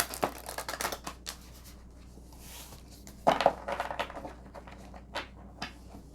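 Cards being shuffled up close in several quick riffling bursts, with a few sharp snaps and pauses between.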